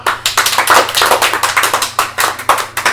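A group clapping hands together at a birthday drinking session among friends, a loud, steady run of rapid, slightly uneven claps that continues without pause.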